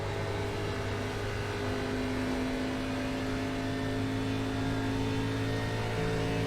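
A race car engine in an ARCA Menards Series racing video game at Charlotte Motor Speedway: a steady, close, sustained drone with a constant pitch that holds through the whole stretch without a break.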